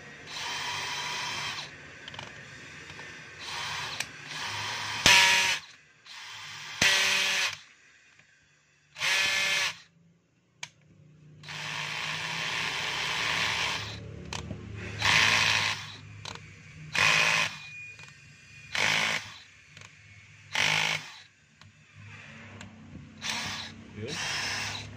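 An electric drill, a plain drill with no hammer function, runs through a test in a string of short whirring bursts. The bursts start and stop repeatedly across the span, with someone talking in the gaps between them.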